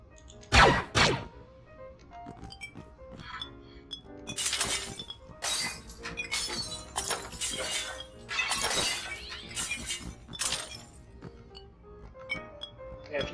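Repeated bursts of glass shattering and tinkling debris follow gunfire in the Red Letter Media fangame Super VHS, with several crashes spread over the stretch.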